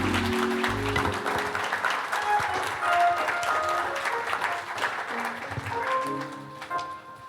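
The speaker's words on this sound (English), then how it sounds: "Y'all give a round of applause for Mr. Chalmers." An audience applauds at an evening storytelling and music event, a dense, steady wash of clapping that runs the whole stretch with some tonal sound mixed in beneath it.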